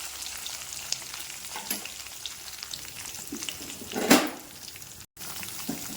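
Onions, curry leaves and green chillies sautéing in a pan for a sundakkai dish, a steady sizzle broken by stirring scrapes and one louder burst of frying, with a brief gap near the end.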